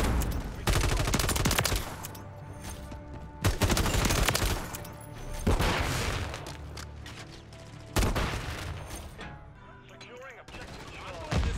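RAM 7 assault rifle fire in Modern Warfare 3 gameplay: long, loud automatic bursts of rapid shots in several strings, with brief gaps and other game effects between them, while a voice talks now and then.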